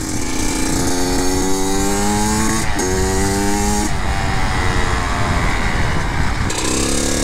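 Kawasaki KX85 dirt bike two-stroke engine revving loud and close, a steady high buzzing whine that rises and falls as the throttle is worked during warm-up.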